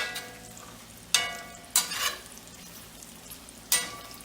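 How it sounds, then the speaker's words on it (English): Bacon frying in its own grease in a cast iron pan, a steady close crackle and sizzle broken by a few sharp louder spits and pops, with no talking. "Getting a nice amount of grease here. Frankly, the bacon is almost ready."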